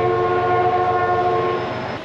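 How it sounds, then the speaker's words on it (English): A train rolls past close by on a snowy, freshly plowed day, a loud steady rumble with sustained tonal horn-like hum throughout, fading slightly toward the end; no talk. "Oh, train coming."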